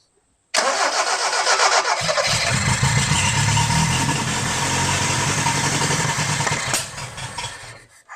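A 1971 Toyota Celica TA22 barn-find engine cranks loudly with a steady rhythmic churn, catching briefly with a deeper rumble as it nearly fires before fading out without starting.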